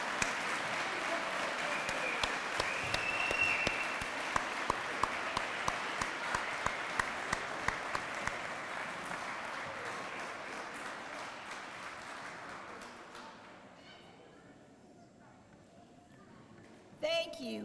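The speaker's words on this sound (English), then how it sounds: "One more time, let's give an honor with our applause to our veterans." A Veterans Day salute audience applauds for veterans: sustained, fairly loud clapping from a crowd that gradually thins and fades out, with a short sound at the very end.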